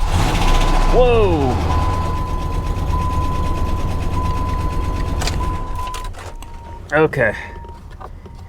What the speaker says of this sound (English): I'm sure you could hear the engine was not happy. Those were lifters chattering.